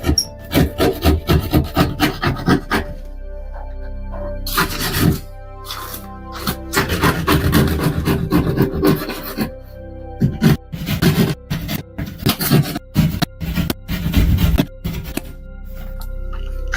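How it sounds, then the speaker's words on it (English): Repeated rough scraping and rasping as paint and drywall are scraped off a wall, coming in close, loud bursts with short pauses between strokes. "Take a little bit more off. Now that paint and drywall is coming off."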